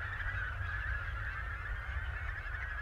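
Migratory geese honk continuously as a flock, a dense, overlapping chorus of calls over a low rumbling background, with no one speaking.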